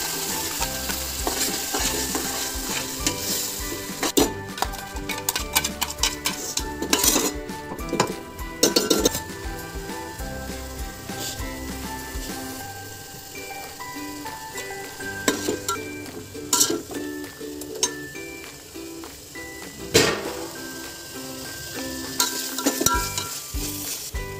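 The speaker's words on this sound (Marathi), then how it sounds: "आता चांगला परतेपर्यंत असा भाजून घ्यायचा आहे तो मसाला" Chicken biryani masala paste, ground in a mixer and added to browned onions, fries and sizzles in a pan while a spoon scrapes and clinks against the metal in steady bursts, close and continuous with no voices.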